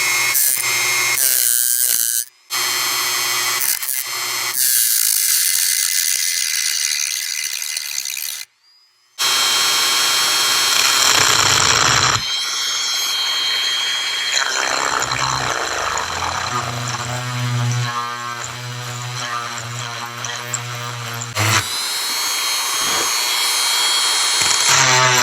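A cone cutter drilling into a lead football-head jig mold gives loud, high-pitched whining bursts that stop and start, with some steady stretches and short pauses between runs.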